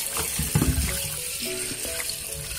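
Pork rinsed by hand under a running faucet while cooking lechon kawali, a steady broadband rush of tap water filling the sink with a few brief splashes and handling knocks near the start.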